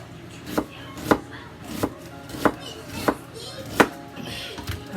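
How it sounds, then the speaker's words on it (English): A knife slices food against a cutting board while a Sunday dinner is cooked in a home kitchen, making about seven crisp, evenly spaced chops at close range over faint room noise. "So we're just gonna cut it in slices and lay it down."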